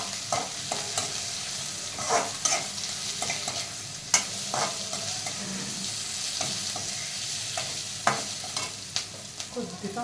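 Vegetable fried rice with half a teaspoon of garam masala is stirred in a hot pan, giving a continuous low sizzle broken by repeated spatula scrapes and clinks at an uneven rhythm, close and clear with no voices.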